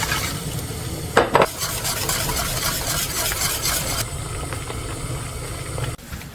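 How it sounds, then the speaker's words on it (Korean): Continuous scraping and stirring of a thick glutinous rice flour paste made with salted croaker fish sauce in a pot, steady and close, with a few clanks of the utensil against metal. "황석어젓 국물에 찹쌀가루 국대접으로 2개 넣어서 풀을 써요"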